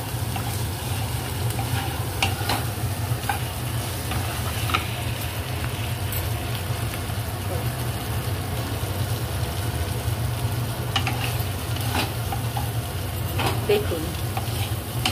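A fish curry (foloi macher rasha) fries in a pan and is stirred, giving a steady, moderately loud sizzle over a low hum, with scattered scraping clicks from the stirring.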